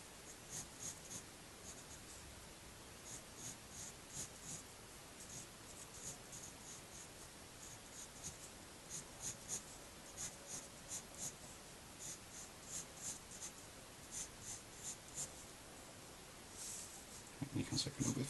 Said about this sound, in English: I'm just going to sketch in a little bit right in the middle of this